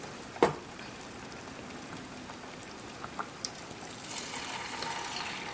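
Banana fritters fry in hot oil, giving a soft, steady crackling sizzle with a sharp pop near the start and a few small spits later on.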